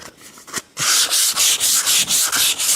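Sandpaper rubbed by hand over a wooden piece without a block, starting with a few short scuffs, then a steady run of loud, rhythmic back-and-forth strokes, close and alone.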